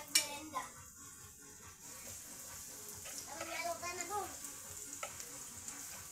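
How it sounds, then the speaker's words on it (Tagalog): Onion, garlic, ginger and chili sautéing in a pan, a steady sizzle with occasional clinks of stirring; voices talk quietly underneath. "Nag-umpisa na siya manggisa ng sibuyas, bawang, luya at sili."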